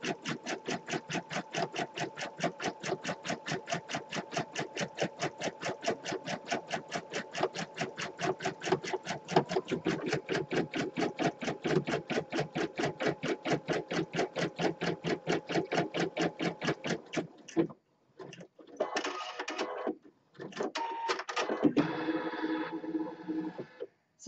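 An embroidery machine stitches light green thread for a Christmas tree skirt, a rapid, even mechanical rattle of needle strokes running steadily for about seventeen seconds, then stopping into a few scattered clunks and short bursts.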